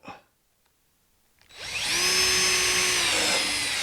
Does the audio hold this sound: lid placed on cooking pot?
no